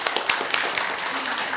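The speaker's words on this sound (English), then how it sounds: "give her a big applause." Audience applause at a health and nutrition trade event in a Bangkok convention hall, a dense steady wash of many hands clapping at moderate volume throughout.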